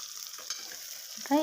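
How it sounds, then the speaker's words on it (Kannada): Masala-stuffed brinjals frying in oil give a soft, crackling sizzle with a few scraping stirs, and a brief sharp clink rings out at the very end. "ಈಗ ನಾವು ಈ ಬದನೆಕಾಯಿನ ಎಣ್ಣೆಯಲ್ಲಿ ಫ್ರೈ ಮಾಡ್ಕೊಳ್ಕೊ ಚೆನ್ನಾಗಿ."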